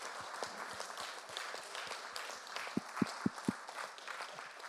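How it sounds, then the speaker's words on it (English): An audience claps in applause at a congratulations moment after a confetti bomb, a steady patter of many hands with a few louder, sharper claps standing out near the middle. "A big applause again."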